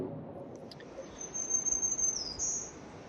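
A black-throated green warbler singing on a forested mountain trail in the White Mountains of New Hampshire, a thin high buzzy phrase heard once, fairly faint over quiet background ambience.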